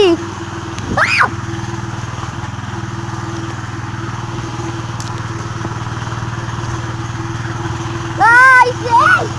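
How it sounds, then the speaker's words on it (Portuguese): A motor runs steadily outdoors on a steep wooded slope, a constant mid-pitched hum and drone throughout. A voice briefly exclaims over it near the start and near the end. "Aqui faz o barulho porque tem um motor aqui."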